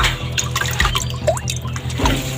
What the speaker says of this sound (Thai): ก็จะมาล้างไข่ก่อนนะครับ